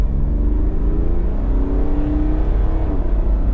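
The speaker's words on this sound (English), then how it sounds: "So I'll give you a bit of an acceleration up to the 60" An Ineos Grenadier's engine revs up loudly as it accelerates to 60 mph, its pitch climbing steadily over a rumbling drone, heard close from inside.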